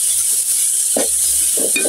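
Onion frying in oil, a bright steady sizzle with a couple of soft stirring scrapes near the end, close and loud, with no talking.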